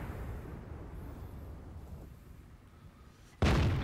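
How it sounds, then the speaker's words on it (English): Jagdpanther tank destroyer gun in World of Tanks, a low rumbling boom that fades out, then a sudden loud sharp blast of the cannon firing near the end. "So another shot on the side of the IS-3."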